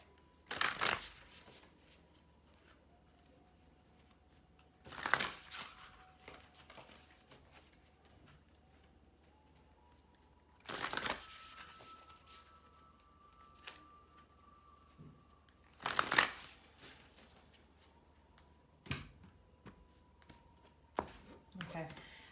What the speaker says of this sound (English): I'm going to pull a few cards from this deck